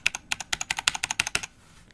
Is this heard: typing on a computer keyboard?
yes